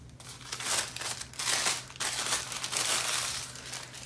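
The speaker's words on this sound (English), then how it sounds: "Let's unwrap and see what is in here." Crinkly plastic wrapping is torn open from a boxed art supply kit, with bursts of crackling and rustling near and fairly loud, pausing briefly between handfuls, over a faint low hum.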